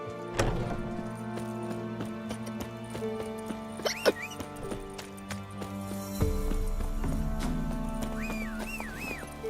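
A horse in The Witcher 3 gallops with rhythmic hoofbeats, joined by occasional whinnies and a sudden shift in the background music midway, all at moderate loudness.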